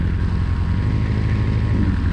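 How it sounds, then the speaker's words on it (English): A jet aircraft passes in the flight combat game Aces High, heard as a loud, low, continuous engine roar that holds steady for a couple of seconds with no one speaking. "Jet going by."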